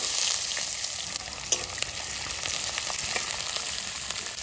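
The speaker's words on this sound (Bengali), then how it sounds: "জিরে আর শুকনো লঙ্কা আর পেঁয়াজ রসুন। এবার তেলে দিয়ে দেবো।" Cumin, dried chilli, onion and garlic frying in hot oil in a karahi, a steady close sizzle with faint stirring scrapes and one brief clack, no talk.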